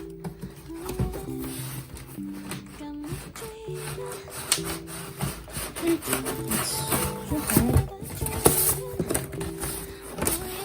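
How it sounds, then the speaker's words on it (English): A package of fabrics is opened and handled nearby with crinkling plastic, rustling and scraping packaging noises in irregular bursts, with some talk underneath. "So let's go ahead and unbox it."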